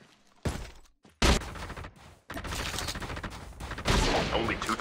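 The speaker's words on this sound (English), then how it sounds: "There's one shooting." Gunfire in a Call of Duty Mobile battle royale match: loud bursts of rapid shots in separate bursts, close and sharp, with heavy firing continuing to the end.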